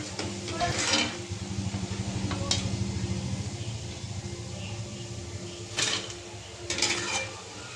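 Cauliflower (gobi) frying in a pan, a soft continuous sizzle with occasional clattering scrapes and knocks of a utensil against the pan.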